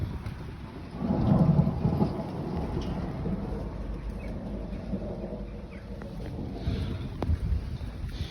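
Steady rain falling and pattering nearby, with a deep rumble swelling early on; no talking.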